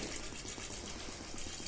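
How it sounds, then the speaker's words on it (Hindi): Water is poured into a pressure cooker holding chickpeas, a steady, dense rushing splash filling the kitchen for under two seconds, with no talk. "उसके बाद आपको पानी ऐड करना है"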